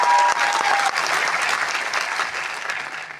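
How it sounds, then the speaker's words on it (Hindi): An audience of husbands at a Modicare direct-selling meeting in Banaras claps together in a dense, loud burst of applause that holds steady and fades slightly toward the end. "सारे हस्बैंड ताली बजाओ।"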